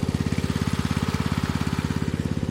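A centrifugal water pump draws water from a borewell through a closed suction line, producing a steady, rapid, evenly pulsing engine thrum close by, loud and unbroken with no voices.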